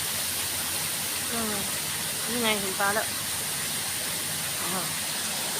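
Waterfall at a Thai buffalo-themed cafe in Udon Thani, a steady broad rush of falling water running throughout, with someone talking over it in the foreground.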